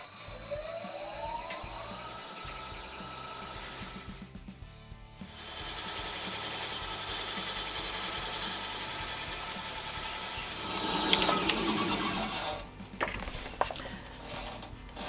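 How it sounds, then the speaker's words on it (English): Steady, continuous whirring and scraping of a lathe as a tenon is cut on a green wood bowl blank, with a brief pause near the start and a harsher, louder cutting burst toward the end. "I'm turning a tenon, which will be the base for the bowl"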